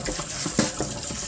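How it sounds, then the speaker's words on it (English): Tap water running over beef ribs in a sink while they are rinsed, a steady close splashing stream with small bursts as the meat is moved under it. "We're going to give this a nice rinsing off."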